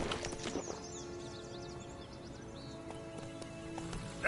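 Horse hooves clip-clop in Witcher 3 as the rider urges the mount on, a faint, steady trotting rhythm under ambient game sound with birds chirping in the background.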